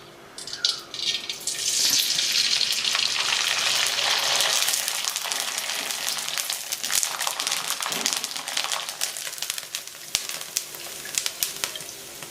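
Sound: frying wheat kurdai in hot oil

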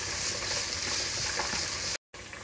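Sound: onion sautéing in olive oil

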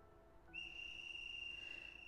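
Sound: frantic tweeting of a whistle in distance, Hakuoki video game

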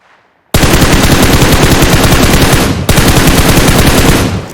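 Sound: gunfire in the video game PUBG

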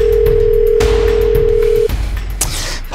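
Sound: phone call ringing, unanswered

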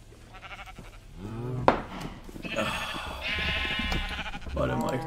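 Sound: sheep bleating in Minecraft video game

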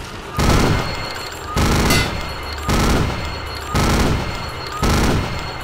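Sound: gunfire in a video game

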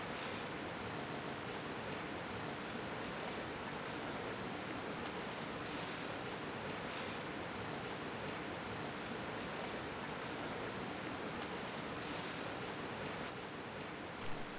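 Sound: waterfall and stream in Johnston Canyon, Banff, in winter

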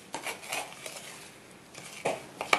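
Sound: stirring melted oil and shea butter into bath fizz mixture

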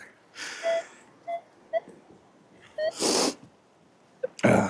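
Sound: sniffling

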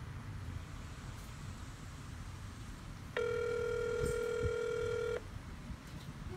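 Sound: telephone dialing a call to Buffalo Wild Wings

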